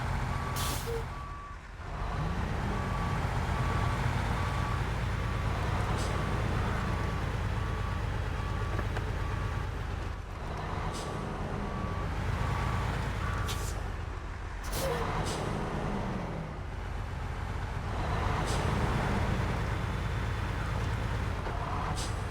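Truck reversing alarm in SnowRunner, a heavy off-road truck backing through deep mud, beeping repeatedly under a loud, steady engine rumble, with occasional air-brake hisses.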